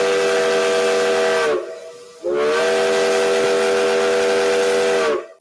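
The chime steam whistle of Southern 4501 locomotive blows two long, loud, chord-like blasts with a breathy hiss, the first about one and a half seconds, the second about three seconds after a short gap.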